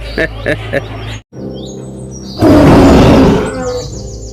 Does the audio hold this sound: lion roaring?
yes